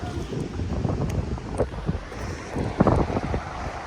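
Gusty, cold wind buffets the microphone in a continuous low roar on a wide beach at low tide, with faint surf and occasional bumps; no one speaks.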